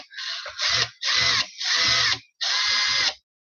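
A power drill whirs through plastic in four short bursts with brief pauses between, close and buzzy, with no voices.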